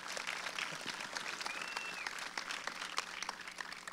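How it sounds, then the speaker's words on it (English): A startup talk audience claps after the speakers' remarks, a soft, distant spread of many hands with scattered sharper claps, steady throughout with no voices over it. "let's applaud that"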